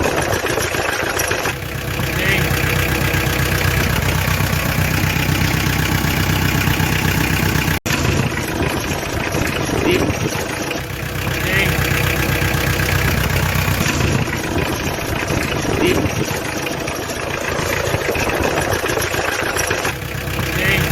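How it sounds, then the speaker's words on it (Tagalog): Engine idling steadily at a slightly raised speed after its balancer shafts were deleted, a continuous close mechanical drone with a brief click near the middle. "I noticed my engine has a slightly higher RPM"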